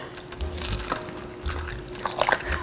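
Half and half is poured into a mushroom and bacon stew, a soft liquid trickle and splash close by over faint background hum, with no one talking.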